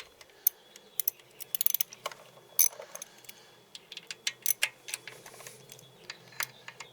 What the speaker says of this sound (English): So I'm just going to start these by hand with the wrench, and then we'll finish them up just like this.